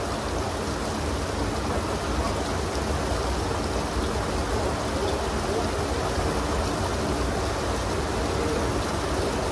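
Rain falling outdoors, a loud, steady, dense rushing patter filling the whole stretch with no pauses.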